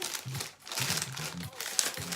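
Plastic film is crinkled and tugged by hand over floral foam in a rose flower box arrangement, with soft irregular rustling throughout and a short quiet break partway.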